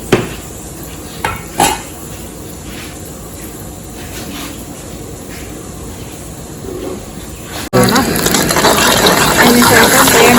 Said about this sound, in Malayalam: കടുക് അതിനകത്തോട്ട് ഇട്ട് കൊടുക്കും.